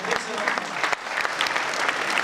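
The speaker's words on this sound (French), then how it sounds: "je vous demanderai tous d'applaudir tous les petits cuisiniers en herbe qui ont travaillé aujourd'hui." A school audience applauds the young cooks at a cooking event, a loud, dense and continuous round of clapping that stays steady throughout.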